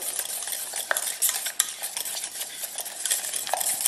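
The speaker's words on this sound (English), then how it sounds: "Just give it a real good whisk" Unsalted butter being whisked into a yellow custard mixture for a mango custard pie, a steady scraping stir in a bowl with occasional clinks of the utensil, close and continuous with no voices.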